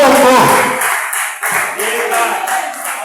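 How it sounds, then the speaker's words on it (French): A church congregation claps for Jesus during a service, a run of rhythmic, evenly spaced claps mixed with voices and vocal sound. "Acclamez pour Jésus."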